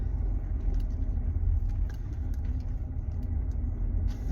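From inside, a car drives through a school pickup area on a football game day, giving a steady low engine rumble with road noise. The sound is continuous and fairly loud, with no voices.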